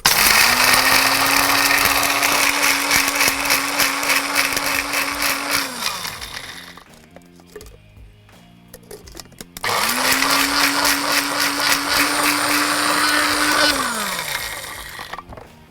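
A food processor chops cooked bacon into fine bits, with two loud whirring motor bursts of about six seconds each separated by a quieter pause of rattling.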